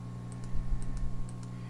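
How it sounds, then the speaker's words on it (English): Quick, light keystrokes on a computer keyboard while entering aliases in FreeCAD, a brief burst of soft irregular clicks over a steady low electrical hum. "it gets a little bit tedious typing in all of these aliases"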